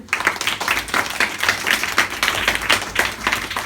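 Children clapping together at a free education centre's National Science Day event, a lively group of small hands beating in a fairly steady rhythm throughout, close and loud with no talk.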